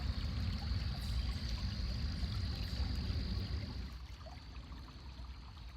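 A creek flows steadily in a continuous broadband wash of moving water, close and constant, easing slightly softer toward the end, with no voices.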